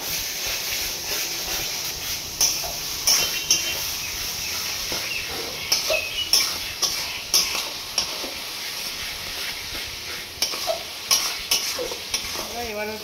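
Fried onions and ginger garlic paste being stirred in hot oil for a crab dish, with a steady sizzle broken by repeated scraping strokes of a spoon against the pan, close and fairly loud.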